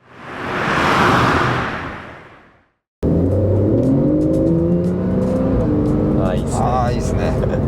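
A rear-engined Porsche 911 991.1 Carrera flat-six exhaust swells in a rev and falls away, then after a brief gap a steadier engine drone continues under a conversation between people.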